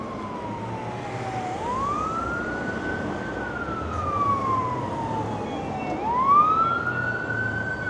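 An ambulance siren wails along a Vancouver street, its pitch rising and falling in slow sweeps as it approaches, loud and steady over background traffic rumble.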